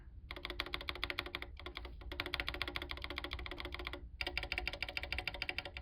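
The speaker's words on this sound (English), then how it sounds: "Here's the Lubed Tangerine to compare." Rapid typing on a keyboard fitted with lubed C3 Tangerine linear switches, a steady stream of crisp, close keystrokes with two brief pauses, no voices.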